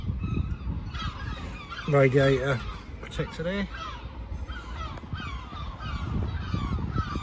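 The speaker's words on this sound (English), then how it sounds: "You can just hear a lot of seagulls going off in the background." Harsh, honking bird calls ring out in a few bursts behind someone talking, with outdoor background noise throughout.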